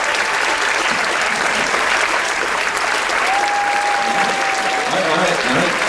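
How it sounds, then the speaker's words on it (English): Loud, sustained audience applause fills a cruise ship game show stage, steady dense clapping throughout with a brief whistle-like tone partway through and faint voices beneath. "Let's give them a nice round of applause, folks."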